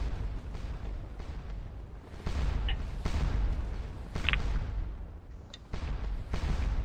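A French grand battery of cannon on a ridge fires in the Waterloo video game Scourge of War, with booming shots in an irregular rolling barrage over a constant rumble of battle. No voices are heard.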